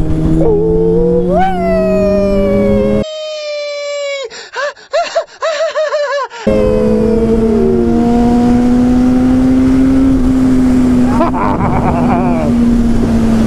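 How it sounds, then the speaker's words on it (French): A motorcycle engine revving steadily to warm up its tyres, loud and close, with a higher-pitched harsh burst of revving partway through and rising, wavering engine tones. "Allez, on chauffe les pneus."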